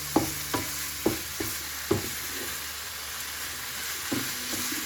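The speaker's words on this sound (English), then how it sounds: "I'm gonna fry mince with onion." Mince and onion fry in a pan with a steady sizzling hiss, while a spoon strikes and scrapes the pan in a run of sharp knocks, close and without talk.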